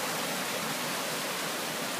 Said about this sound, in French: je vous montre au détour d'un chemin un très joli petit ruisseau